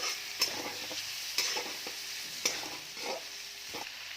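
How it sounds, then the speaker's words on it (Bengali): Ground turmeric, coriander and cumin fry in a pan for vegetable Maggi noodles: a steady hiss of sizzling with a few sharp spatula taps and scrapes spaced about a second apart, close and moderately loud. "তারপর এটা ভাজতে থাকবো।"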